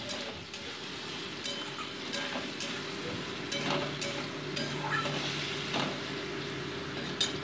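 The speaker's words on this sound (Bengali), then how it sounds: "দিয়ে মোটামুটি এটাকে 2 মিনিট ভালো করে কষিয়ে নিচ্ছি।" Potatoes coated in ground spice paste with salt and turmeric fry in a pan, a continuous sizzle broken by repeated spoon taps and scrapes against the metal.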